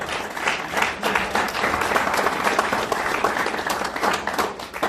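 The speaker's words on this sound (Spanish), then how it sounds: "Démosle un aplauso fuerte al Señor" Sustained applause from a church congregation, many hands clapping in a steady dense wash that holds at an even level throughout, with no talking over it.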